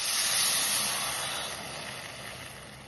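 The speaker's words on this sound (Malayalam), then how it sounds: "ഇതിലേക്ക് 1 കപ്പ് വെള്ളം കൂടി ഒഴിച്ചു കൊടുക്കുക." Water meets half a cup of sugar in a hot pan with a broad steamy hiss that swells early and gradually fades, close and alone.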